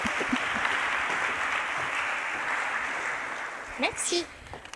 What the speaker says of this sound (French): Applaudissez encore, elle n'est pas arrivée.